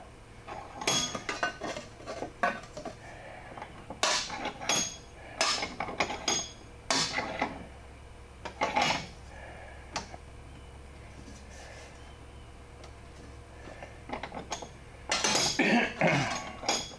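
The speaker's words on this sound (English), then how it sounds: "Okay, putting that in the vise helped. Now I've got a 90-degree bend in that piece." Hammering a metal piece held in a vise while bending it, on a 2007 Mazda Miata NC under-pan installation: a series of sharp metallic clanks and taps in irregular bursts with pauses, close and fairly loud, no talk.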